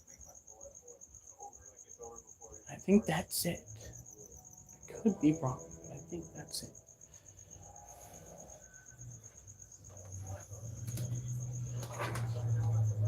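Pet crickets kept in a terrarium room chirp in a fast, steady high trill throughout, faint and close, while someone talks quietly and handles things nearby.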